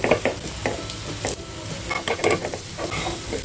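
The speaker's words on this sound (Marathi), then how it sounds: "मीडियम फ्लेमवर फ्राय करून घ्यायचे आता साईडचं तेल कमी व्हायला लागलं आहे आता हे परतून घेऊया" Coriander vadi frying in oil over medium flame, being stirred and turned in the pan, with a steady sizzle and repeated scraping strokes, no voices.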